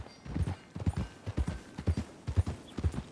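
A horse's hooves clip-clop in Red Dead Redemption 2, an even, close walking rhythm of paired hoof strikes repeating over a few seconds with no talk.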